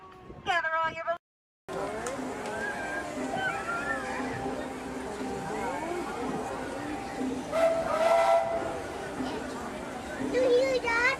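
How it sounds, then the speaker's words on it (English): A train whistle sounds on a ride at a Disney park, with a short burst of whistle tones at the start and another later, over a hissing, bustling background with people talking. "It's a choo-choo."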